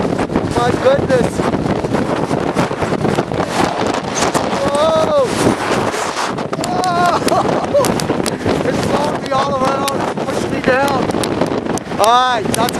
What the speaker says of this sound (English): Oh, it's so windy. My goodness.